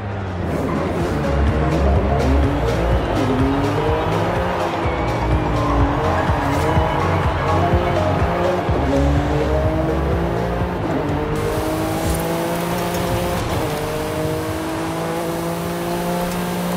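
A Honda NSX races in Forza Horizon 5, its engine roaring continuously and loud while the tires squeal and skid through corners, with gear shifts breaking the steady drone.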